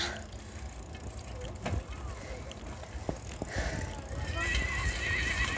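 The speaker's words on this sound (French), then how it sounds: "Ah, il y a les chevaux." Horses whinny and neigh while hooves clip-clop on the ground nearby during an outdoor walk, the sounds loud against steady background noise and growing busier toward the end.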